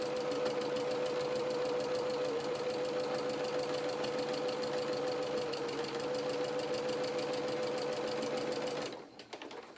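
A sewing machine stitches quilting lines across a piece of fabric, a close, fast, even mechanical whir and rapid needle clatter running steadily for about nine seconds before stopping.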